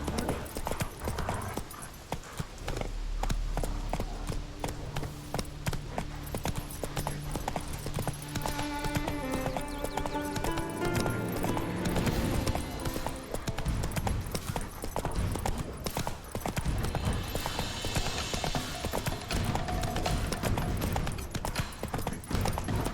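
Roach the horse trots in The Witcher 3, her hooves clip-clopping in a steady rhythm against game music tones, with a brief whinny-like sound partway through.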